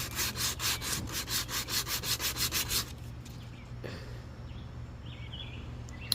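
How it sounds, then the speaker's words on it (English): Rhythmic back-and-forth sanding of teak with 60-grit sandpaper, steady strokes close by for about three seconds, then stopping, leaving a quiet room. "I started sanding, and that helped a lot."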